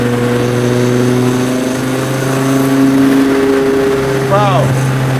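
A Ruffian 800 HP 9.0-litre V10 Plymouth hot rod cruises at about 80 mph and 3,000 rpm, giving a loud, steady engine drone with strong low harmonics, heard from inside the car.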